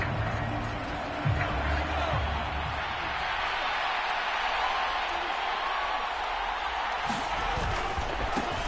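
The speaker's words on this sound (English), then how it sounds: "now the home team crowd," Home crowd cheering and roaring in a football video game on PS4, a steady broadband wall of stadium noise with brief swells and claps, running continuously throughout.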